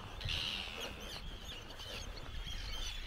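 Birds chirp and call faintly over steady outdoor background noise at a campsite in West Iceland, a few tweets scattered through the short stretch.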